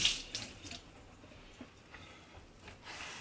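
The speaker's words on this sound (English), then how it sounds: "Get a little water on my towel." Water running from a kitchen tap onto a paper towel while cleaning an air fryer, a soft, uneven splashing trickle with a few louder spurts, close by and fairly quiet.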